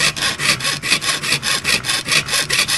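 A jeweller's saw pierces a silver sheet marked with double-heart shapes, its close, steady back-and-forth strokes rasping in an even rhythm of about three per second, alone with no talk.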